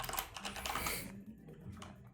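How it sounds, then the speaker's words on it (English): Computer keyboard typing during a CivLAN 2022 Civilization tournament broadcast, a dense, rapid clatter of keystrokes close to the microphone that thins out partway through, with no talking. "it hurts me as well to hear the sound of this keyboard"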